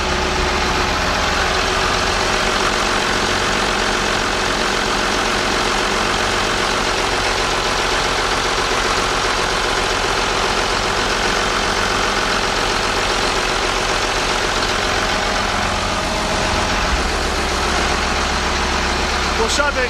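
An 8.3 liter Cummins diesel engine idles just after an injection pump install, a loud, steady, close rumble with an even knocking pulse throughout.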